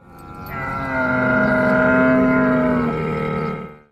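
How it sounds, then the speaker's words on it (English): A camel lets out one long, low, groaning bellow up close, swelling in the middle and holding for several seconds before fading away, with no other sounds around it. "Camel"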